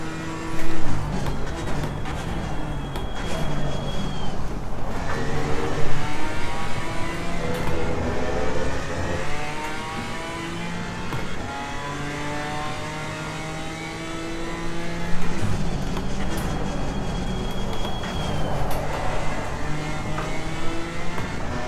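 BMW M4 GT4 race car from Assetto Corsa Competizione revving hard through a lap, engine pitch sweeping up and down through gear changes, loud and continuous with no talk.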